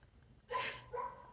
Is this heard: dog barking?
yes